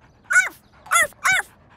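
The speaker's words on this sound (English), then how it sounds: "Listen carefully to hear which dog has the same bark." Cartoon dog barking in three short, bright yips spaced evenly apart, close and clear with no talk over them.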